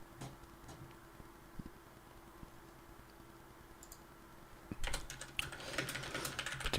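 Someone types on a computer keyboard, sparse soft clicks at first over a faint steady hum, then a faster, louder flurry of keystrokes near the end, close by with no speech.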